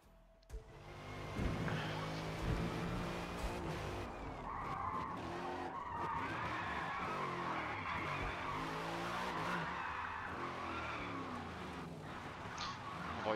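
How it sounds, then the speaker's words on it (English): Tires skid and squeal continuously as a car spins donuts in a racing video game, engine roaring steadily and loud throughout with no talking. "I'll go ahead and do a couple donuts"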